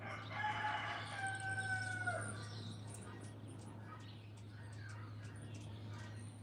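A rooster crows in a garden on a rainy day, loud and close at the start, the call trailing off after about two seconds into a steady background hum and faint bird chirps.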